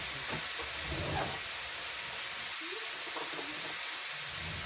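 Ground beef sizzles in a pan with a loud, constant frying hiss. Faint clinks and scraping stirs come through here and there, and no one speaks.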